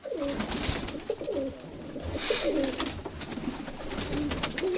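Pigeons coo repeatedly in a loft, an old hen among them, soft throaty rolling calls close by over faint rustling and background noise.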